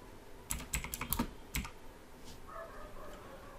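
A computer keyboard is typed on for a Windows search. A quick run of close, sharp keystrokes comes first, then quieter room tone with a faint final click.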